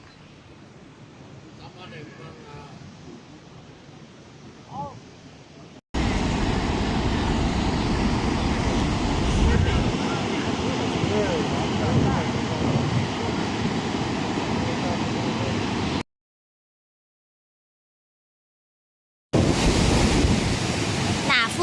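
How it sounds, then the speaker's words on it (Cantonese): The roaring Yellow River waterfall, with mist rising from its spray, makes a loud, continuous thunder of rushing water with wind buffeting the microphone. A voice talks softly at the start, and the roar returns after a silent gap. "見到嗰條好澎湃嘅黃河"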